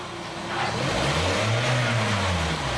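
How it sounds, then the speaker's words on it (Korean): A Kia K5 LPG car engine revs up close by past 3,000 RPM, its pitch climbing and then sliding smoothly back down to about 1,000 RPM in a sustained roar. "엔진 소리 한번 들려봐 드릴게요."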